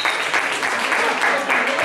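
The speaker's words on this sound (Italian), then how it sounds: "facciamogli un applauso in più per questa cosa bellissima" Audience applause for street musicians at a Neapolitan classic song festival, a short burst of dense, lively clapping that holds steady throughout.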